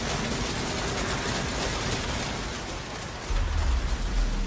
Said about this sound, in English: Rattling guns are heavy damage dealers, which also suppress their targets, slowing their movement.